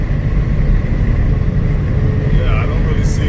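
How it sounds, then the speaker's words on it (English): A dirt bike passing by, its engine a faint, buzzy drone rising and falling under a steady rumble of nearby traffic, with a voice talking over it. "Sound like a dirt bike"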